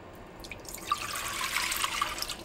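Two glasses of water poured into a cooking pot while making chickpea panelle fritters, a soft continuous splashing trickle with brief bright drips, close and alone.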